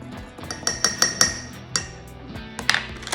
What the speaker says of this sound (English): I'm gonna give it a little mix